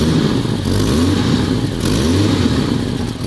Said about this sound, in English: you can hear that slight exhaust from there